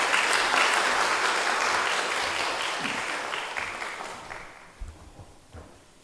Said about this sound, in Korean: 박수로서 환영해 주시기 바랍니다.